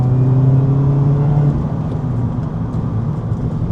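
A Mazda Miata engine over-revs during a heel-toe downshift, a loud, high steady engine drone that drops to a lower, rougher hum partway through, with no speech.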